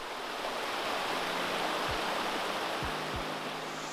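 A waterfall in ancient woodland on the Somerset coast pours with a constant, dense rushing roar, broken only by a few dull low thumps.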